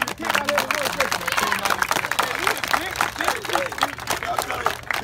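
A crowd clapping and whooping for athletes at a sports charity weekend event in Nassau, Bahamas: continuous, lively applause mixed with shouts and chatter throughout, fairly loud and close.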